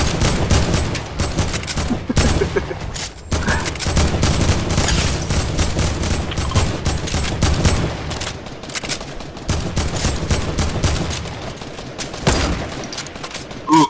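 Rapid gunfire rattles nonstop in a Fortnite match, dense bursts of close, loud shots and automatic fire packed together with only brief gaps.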